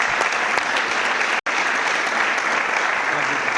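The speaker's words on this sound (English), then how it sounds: "If you'd give our planning commissioners a round of applause." Dense, steady applause from a city council meeting audience clapping for the planning commissioners, a full crowd roar of hands that fills the room without letting up.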